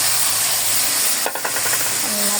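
Ground spices, salt, chilli, ginger paste and cumin paste sauté in a hot pan with a steady hiss, then a burst of quick scraping stirs midway; close and continuous with no talking.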